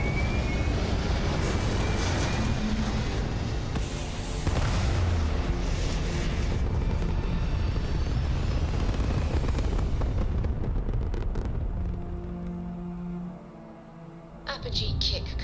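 A spaceship lifting off in the game Starfield, a loud continuous roaring rumble that holds steady for most of the time, then thins and drops away near the end, with voices talking over it.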